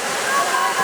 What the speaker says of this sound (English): here's Fergal Cooper coming over the Weir.